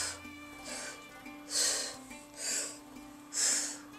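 Rhythmic breathing during a kundalini exercise, with four forceful breathy exhales at steady intervals over a low steady hum, fairly close and clear.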